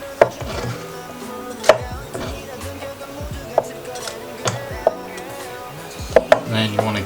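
Lemon chunks crushed with a muddler for a soju cocktail give repeated sharp knocking thuds at irregular intervals, close and fairly loud, over a steady busy background.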